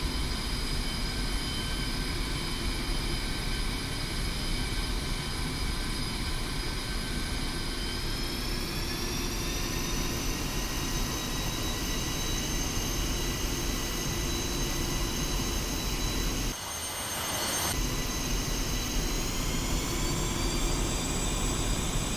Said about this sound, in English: increase thrust of both engines to maximum